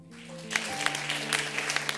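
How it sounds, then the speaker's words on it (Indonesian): A church congregation breaks into applause during an afternoon worship service, scattered claps thickening into steady clapping over a sustained tonal hum. "Tepuk tangan."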